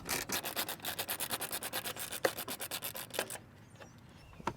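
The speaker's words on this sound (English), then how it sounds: "So using a 12mm socket, we're just going to undo that bolt." A 12mm socket undoes a bolt on a battery tray mounting foot of a Mitsubishi Pajero Sport/Triton, producing a quick, even run of close ratcheting strokes that stops abruptly, followed by a few scattered clicks.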